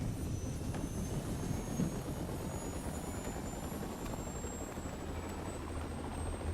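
A helicopter in the video game TF1949 produces a steady, rapid rotor chop with a faint high engine whine, continuous and fairly quiet throughout, with no voices.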